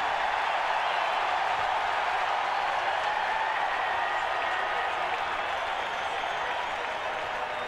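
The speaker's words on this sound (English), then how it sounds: "This crowd has rattled them." A stadium crowd at a 1993 NFL game between Phoenix and Washington roars and claps in a continuous, loud wash of noise, with faint commentary talk underneath.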